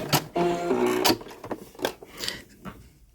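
A sewing machine runs a short back stitch in reverse, with a brief mechanical whir of rapid stitching. Clicks and handling knocks follow as the fabric and controls are adjusted, close up and moderately loud.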